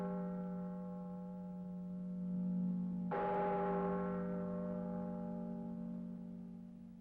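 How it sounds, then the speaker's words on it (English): The bell of St. Stephan's church tolls at midnight, a deep resonant strike ringing out partway through over the lingering hum of an earlier toll, then slowly fading. "that must be the bell of the church of St. Stephan"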